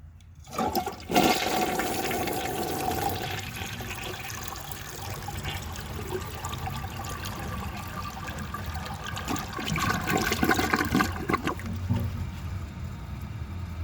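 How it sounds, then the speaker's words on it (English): A 1982 American Standard Plebe toilet with a standard flapper flushing: a sudden loud rush of water that swirls steadily for several seconds, then tapers into trickling refill, close up with no talking. "So I will show you guys a flush, and then let's see how it does on tests."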